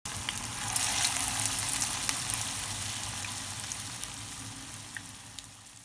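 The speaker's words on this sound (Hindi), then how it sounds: "मीडियम हॉट ऑयल में हम ये मज़ेदार से बैगन के कबाब फ्राई कर लेंगे।" Brinjal (eggplant) kebabs frying in medium hot oil, a close continuous crackling sizzle with small pops that sets in sharply at the start and eases slightly over several seconds.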